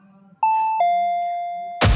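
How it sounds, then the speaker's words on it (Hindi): Doorbell ringing as a sound effect in a horror story, a clear two-tone ding-dong chime sounding once in a quiet room, the second tone ringing out and decaying before a burst of noise cuts in. "दरवाजे की घंटी बजी।"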